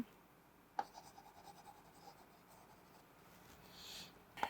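Chalk or marker scratches quietly across a board while math is written out, a soft continuous scraping with a couple of sharper taps, faint and alone in a quiet room.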